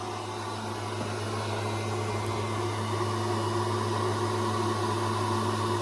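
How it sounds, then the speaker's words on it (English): A 3D printer at work producing a plastic minnow trap, giving a steady, continuous mechanical hum and whir with a low drone, moderately loud and unbroken throughout, with no talking. "we've got one on the printer right now."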